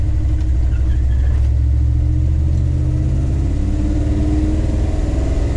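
Loud, close rumble of a Dodge D150 truck's 5.9 Magnum V8 with Holley EFI as it revs and climbs through the rpm range, a steady, heavy drone with no voices.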